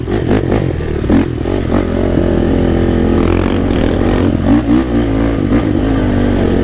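A 2014 Honda 450 dirt bike engine revving loud and close on a muddy spring ride in the woods, a steady, rough drone whose pitch swells and dips with the throttle, with no voices.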